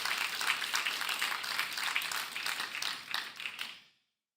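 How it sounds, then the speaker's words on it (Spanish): A church congregation applauds during a service, with busy, crowded clapping that swells and dips for several seconds and then cuts off abruptly. "Un aplauso al Señor."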